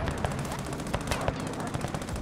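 Rapid gunfire bursts in an online multiplayer shooter game, loud and close, with repeated sharp shotgun-like blasts layered over continuous weapon fire and battle noise.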